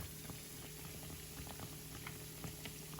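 Hot oil sizzles and spits steadily in a frying pan, a dense crackling hiss with scattered sharp pops throughout, close and continuous with no talking.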